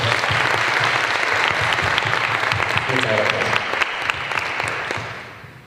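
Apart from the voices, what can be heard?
applause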